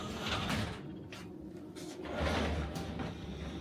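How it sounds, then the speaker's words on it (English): A sliding French-style bathroom door in a Tokyo hotel is pulled shut, giving a couple of soft rolling rumbles and light knocks close by in a quiet room. "closing the door will give you total privacy"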